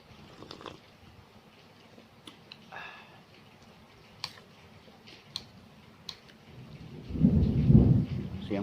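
Rain falls during a thunderstorm, with scattered light ticks of drops on a surface, then a deep rolling thunder rumble swells loud near the end.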